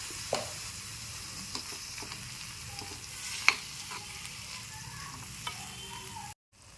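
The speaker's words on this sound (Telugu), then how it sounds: "ఆ వాకాయ తురుముని వేసుకోండి వేసుకుని లైట్గా వేగనివ్వాలి" Grated karonda (vakkaya) frying lightly in a pan gives a soft, steady sizzle, with a few faint clicks of stirring and one brief louder tap, before it cuts out near the end.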